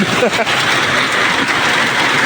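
Dense, loud rain pours steadily as a continuous hiss, with a faint low rumble beneath it.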